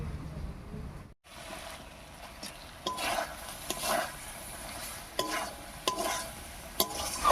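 Prawns cooking in a pan with cashew paste and yogurt are stirred continuously, giving scraping, swishing strokes over a steady low sizzle, with several sharper clatters of the spoon against the pan.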